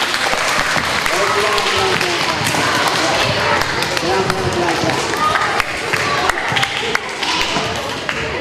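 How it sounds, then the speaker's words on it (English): Elementary schoolchildren at Garfield in Ponca City applaud in a classroom, a dense, loud, continuous clapping with scattered sharp claps and light shuffling of feet and chairs throughout. "So everyone give them a round of applause."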